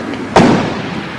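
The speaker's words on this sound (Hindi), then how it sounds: "पटाखे तो बंद कराओ तो ज्यादा" A single Diwali firecracker bursts with a sharp loud bang followed by a fading rumble, set against a steady background hum.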